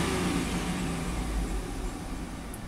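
A GM truck engine with a misfire and low-power fault is held at high RPM, giving a loud, close, sustained roar that eases slightly toward the end, with no talking.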